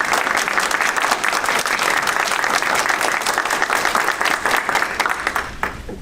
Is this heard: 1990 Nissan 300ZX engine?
no